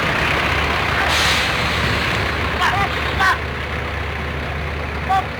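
Bus on the Trans Sumatera toll road near Bakauheni port, Lampung, a continuous heavy engine rumble with traffic noise, brief hissing bursts like air brakes, and voices in the background.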